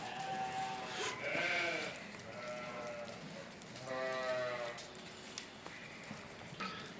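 Several wavering animal bleats, close by, repeating in bursts against a steady outdoor background with faint voices.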